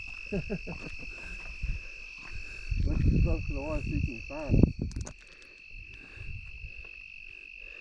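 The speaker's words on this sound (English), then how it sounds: "That's not a frog, that's a cricket." Crickets chirp steadily at night near water with a high, continuous trill while people talk nearby over the insect chorus.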